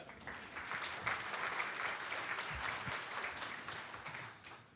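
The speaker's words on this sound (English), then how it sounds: "How about another round of applause for the graduates?" Applause for graduates at a residency graduation ceremony, a sustained, moderately distant wash of clapping from a large audience that rises and tapers off.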